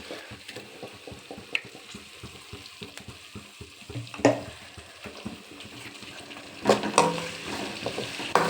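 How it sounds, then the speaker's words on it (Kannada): Mint and green chili paste fries with onions in hot oil, a steady sizzle under repeated stirring and scraping in the pan, with a few louder clatters and no talking. "ಚೆನ್ನಾಗಿ ಎಣ್ಣೆ ಬಿಡೋ ತನಕ ಸ್ವಲ್ಪ ಫ್ರೈ ಮಾಡ್ಕೊಳ್ಳೋಣ ಇದರಲ್ಲೇ."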